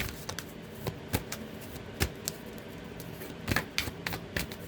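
Tarot cards being shuffled by hand, heard close as scattered sharp riffles and soft taps over a quiet background, with no voice.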